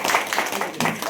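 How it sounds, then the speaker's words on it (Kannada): An audience claps in quick, uneven bursts that stay fairly loud throughout the short stretch, with voices mixed in underneath. "ಚಪ್ಪಾಳೆ ಹೊಡಿರಪ್ಪ."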